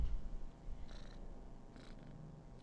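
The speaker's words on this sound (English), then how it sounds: "I have a cat on my lap right now." Close, faint, continuous purring from a cat on a lap, a low, gently pulsing rumble with a few soft rustles.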